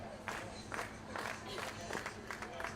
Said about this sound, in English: Round of support from the Big Train faithful, cheering on Madigan to an escape act.